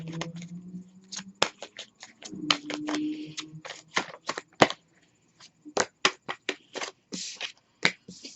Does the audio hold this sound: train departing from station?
no